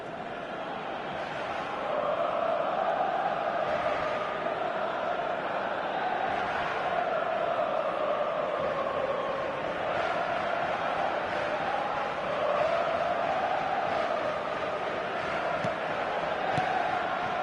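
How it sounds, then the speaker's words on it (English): A stadium crowd in the PES football video game, heard as a dense, continuous roar of cheering that swells and dips for the whole stretch. "Certainly gave this crowd something to really cheer about."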